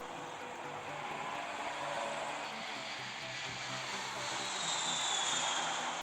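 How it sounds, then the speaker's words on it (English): Airplanes in the City 2048 video game fly overhead, a soft continuous jet-like whoosh that slowly swells and fades, moderately loud and steady with no talk. "planes fly overhead to indicate that your city's growing"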